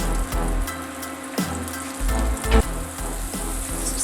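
A skin-on salmon fillet sears in a hot pan, crisping its skin with a loud, continuous sizzle broken by a few sharp clatters and knocks.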